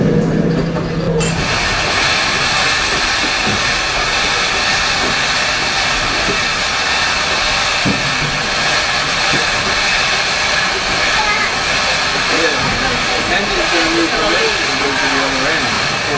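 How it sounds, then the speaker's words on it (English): Strasburg Railroad steam locomotive #90 runs around its train with a loud, steady hiss and rumble that fills the whole stretch, while people talk nearby. "we'll be here for a few minutes while we move our locomotive around to the opposite end of our train"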